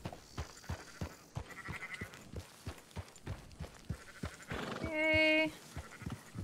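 Sheep bleat in a Western video game, with repeated short bleats from the flock and one clear, sustained bleat near the end, heard under the soft rhythmic clatter of hooves.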